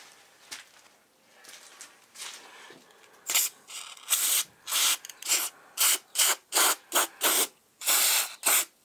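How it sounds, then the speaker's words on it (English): Short spray bursts of lithium grease onto the drive gear of a mini mill, about a dozen hissing pulses in a steady rhythm, close and clear, following some softer rubbing sounds. "I got some lithium grease in there."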